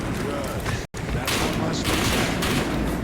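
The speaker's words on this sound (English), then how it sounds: "Wait, why are they shooting me? Why did they shoot me?" Gunfire in the military video game Blackhawk Rescue Mission 5, a dense, continuous fusillade of loud shots with one brief dropout, then sharper bursts layered over the barrage.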